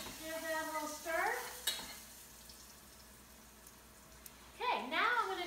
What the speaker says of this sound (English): I'll give that a little stir.